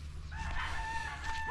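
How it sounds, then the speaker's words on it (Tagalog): A rooster crows loudly and close by, one long drawn-out call rising and holding steady for over a second, with chickens nearby and a low steady hum underneath. "Akainis din itong mga manok na to."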